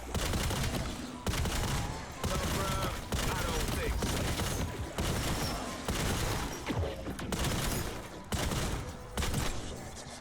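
Masterkey shotgun fired in a video game in short bursts, a string of loud, blasting volleys separated by brief gaps, close up with a voice occasionally heard underneath.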